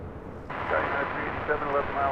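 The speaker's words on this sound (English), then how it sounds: "This is Lufthansa 453 Super taking off to Munich on the A380." A Lufthansa Airbus A380 takes off, a broad rushing engine roar that swells in abruptly and holds steady, with a voice talking over it.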